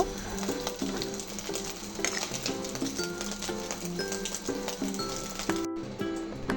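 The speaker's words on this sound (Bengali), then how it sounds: "ডিমটা ভাজা হয়ে গেলেই আমি সসেসগুলো হালকা একটু সটে করে নিব" Sausages sautéing in a pan with ghee and oil, giving a soft, steady sizzle broken by light rhythmic tapping and stirring, close and fairly quiet, with no voices.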